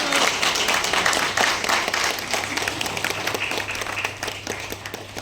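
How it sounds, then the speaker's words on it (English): An audience applauds at a government award ceremony, with dense, close clapping that stays strong throughout and tapers slightly toward the end. "Can we support with a round of applause,"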